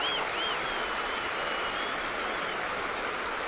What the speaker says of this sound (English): the Yankee fans clapping for Lester getting up